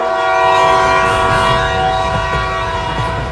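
A cartoon train blares its horn: a steady, loud, tonal blast held over rumbling rail noise throughout, close and continuous, with no talk.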